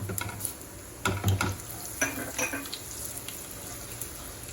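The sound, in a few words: seasoning of black gram dal, sesame, ginger and chilies sizzling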